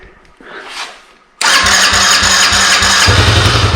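A Raptor 80 engine cranked with the choke on: a short rising whir of the starter, then the engine catches and runs loud and close with a rapid, rough, steady idle.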